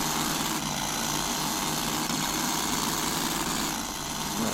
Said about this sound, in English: take that accelerator, get the engine started